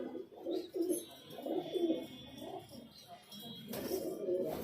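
Highflyer pigeons of a rare red breed coo repeatedly inside a loft, their low, rolling calls rising and falling in overlapping bursts at close range.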